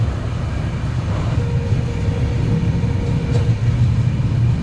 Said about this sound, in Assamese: বৰ্তমান ট্ৰেইন যাই আছে ডিব্ৰুগড় অভিমুখে